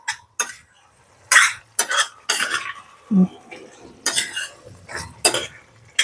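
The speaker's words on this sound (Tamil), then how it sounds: "நடுவில் ஒரு வாட்டி நல்லா கலந்து கொடுத்துக்குவோம்." A utensil scrapes and clinks in short bursts as prawn pepper curry is stirred in a pan over medium flame, with irregular taps and one low cough-like thump between strokes.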